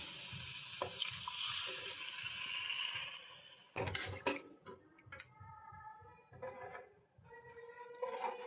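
Water poured into a pan of whole moong curry: a soft, sustained rush followed by a few splashing and dripping bursts, quiet and close, with no speech.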